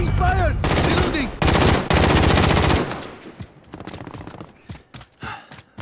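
Automatic gunfire from Call of Duty: Modern Warfare team deathmatch, loud dense bursts up close that cut off abruptly, followed by sparser single shots and clatter.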